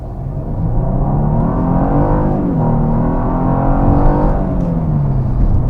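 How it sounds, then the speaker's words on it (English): A 2021 Genesis G80 3.5T RWD sedan accelerates hard, its engine note climbing steadily in pitch, dipping briefly at a shift, then rising again as a loud, continuous, close drone with no talk over it. "Let me just park that really quick and see of how the acceleration really is."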